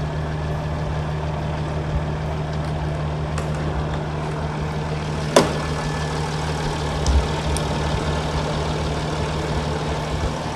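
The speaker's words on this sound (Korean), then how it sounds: "엔진 소리 경유차입니다." A diesel car engine idling with a steady low rumble and hum, close and continuous, with a couple of faint clicks along the way.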